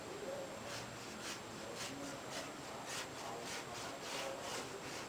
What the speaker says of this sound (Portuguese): Vai passando a ferramenta várias vezes para lá e para cá, porque ela vai serrando, ela vai corroendo, tirando o excesso